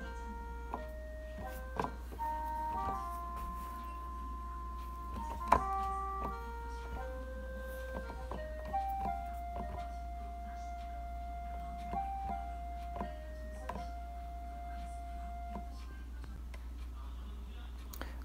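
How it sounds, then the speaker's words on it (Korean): Sanjo daegeum, a Korean bamboo flute, recorded for a cover of a piece mixing traditional Korean and Western instruments, plays a slow, wavering melodic line of held and bending notes over a steady low hum, fairly quiet and without talk. "그래서 이렇게 대금 소리도 산조 대금으로 이제 녹음을 했고요"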